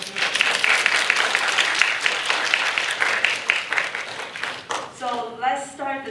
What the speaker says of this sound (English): I would like to invite every one of us to give us a round of applause.